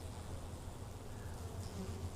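A dense, steady buzz of many honey bees humming together at a hive after varroa treatment, fairly quiet and continuous, with no voices.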